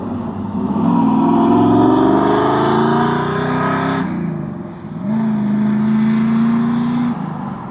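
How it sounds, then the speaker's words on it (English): A 1968 Chevrolet Camaro with an L48 350 V8 and four-speed Muncie transmission revs loudly nearby, with two rising throttle blips separated by a brief dip as the engine drops back toward idle. "It is an L48 350 295 horse with a 4-speed Muncie."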